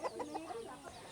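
Chickens cluck softly and close by in a quick run of short, choppy calls over a quiet background.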